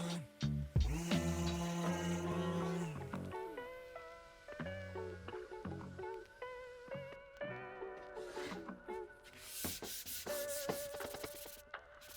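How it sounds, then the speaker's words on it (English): Oak is sanded with a power sander at 150 grit, a steady whirring grind that rises and falls as the tool moves, with no talking. "So I did the final sanding up to grit 150."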